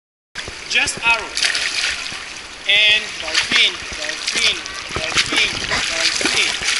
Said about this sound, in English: try to move forward by splashing the surface of the water